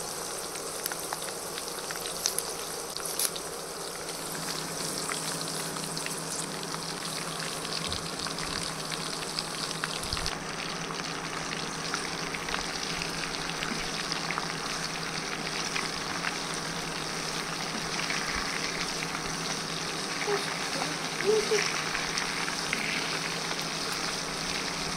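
Keshraj leaves sizzle gently in hot oil with fenugreek and black cumin for homemade hair oil, a faint, steady crackle like light rain that continues for a long stretch with no speech.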